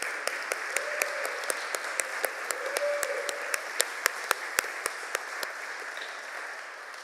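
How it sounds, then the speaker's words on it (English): Steady applause fills a congregation's worship space for young adults, a dense wash of clapping with a few sharper, louder individual claps standing out near the front throughout. "Let's give them another round of applause to our young adults."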